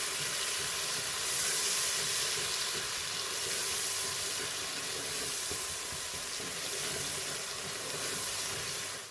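Chopped tomato goes into a hot pan of garlic and ginger for moong masoor dal, setting off a steady, close sizzle and frying hiss that holds evenly throughout with no talking.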